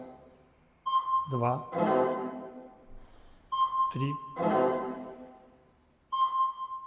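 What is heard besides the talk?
beeps of surveying device recording a point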